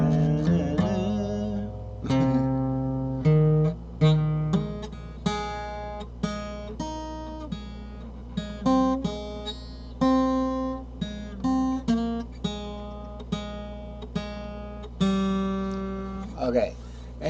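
An acoustic guitar plays a single-note arpeggio figure whose melody resembles the Star Spangled Banner, with clear ringing notes in a moderate, uneven rhythm, close and fairly loud.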